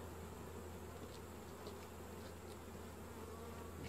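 A steady, dense buzzing of many honeybees close by at an open hive, continuous and droning with no voices.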